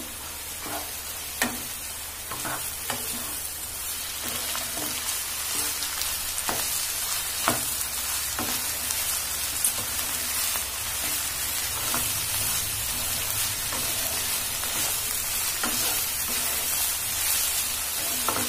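Ginger garlic paste stir-fried in a pan, with a continuous hissing sizzle and occasional sharp spatula scrapes and clicks against the metal, steady and close.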